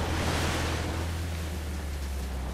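Steady broadband rush of falling water in the Uncharted: The Lost Legacy video game, a constant loud wash with deep low rumble, unbroken and with no voices.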